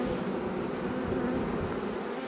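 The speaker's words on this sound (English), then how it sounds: "You can see the bees marching up one another, trying to get in." A swarm of bees hums densely and continuously up close as they crawl into the base of hive frames, a steady insect drone with no voices.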